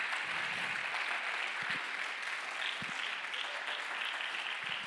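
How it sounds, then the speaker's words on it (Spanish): Faint, steady clapping from a church congregation, a soft continuous patter with no voices over it. "denle un aplauso fuerte en la casa del Señor"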